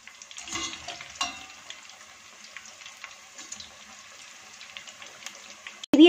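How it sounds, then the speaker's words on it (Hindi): Pakoras frying in hot oil over medium-low heat, a steady faint sizzle and crackle with occasional stirring and scraping noises up close, ending in a brief loud knock. "पकौड़ों को फ्राई होते तकरीबन 5 मिनट हो चुके हैं।"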